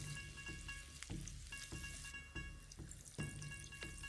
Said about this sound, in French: Les dernières boulettes de pois chiches en cuisson.